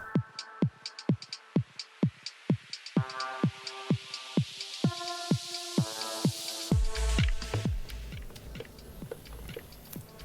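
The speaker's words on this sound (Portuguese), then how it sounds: "Agora eu tenho que mexer muito bem para homogeneizar essa mistura." A 350 ml batch of epoxy resin mixture stirred in a container, producing a regular series of wet taps and squelches that thicken into a denser swishing churn toward the end, close and without voices.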